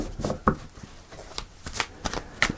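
Tarot cards are shuffled by hand in a quick series of crisp riffles and soft flutters, close and clear, with no talking.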